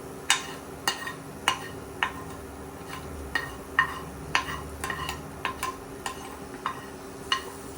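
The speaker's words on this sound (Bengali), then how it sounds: "একটু ফুটে উঠেছে, এবার আমি ফোড়নটাকে ঢেলে দেব।" Hot spice tempering goes into a pot of simmering dal chicken. Irregular sharp clicks and spoon taps ring out over a low sizzling hiss, close by and with no voices.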